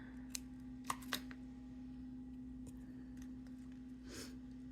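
Scissors trim paper for a covered-paperclip craft, with a few quiet, crisp snips in quick succession near the start and another near the end, heard close over a steady low electrical hum.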